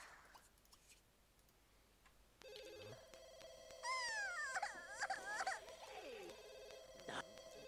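A telephone rings in The Sims 2 in repeated warbling electronic bursts over soft game background music, fairly quiet after a near-silent start.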